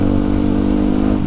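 A 250cc four-stroke supermoto motorcycle engine running steadily, a close, loud, even throb with a slight rise near the end, and no voices.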